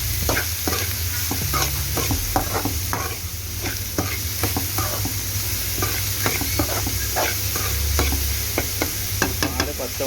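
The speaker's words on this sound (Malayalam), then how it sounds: "ചെറുതായി അരിഞ്ഞ് വെച്ച സവാള കൂടി ആഡ് ചെയ്ത് കൊടുക്കുക." Chopped onion sizzles and fries steadily in a pan while a utensil stirs it in frequent scraping strokes, close and alone with no voices.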